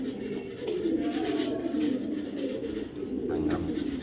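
Racing pigeons coo steadily in a breeding loft, a continuous soft, throaty rolling murmur from several birds nearby, with no clear breaks across the stretch.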